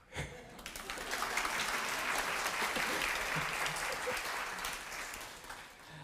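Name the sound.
audience clapping at a concert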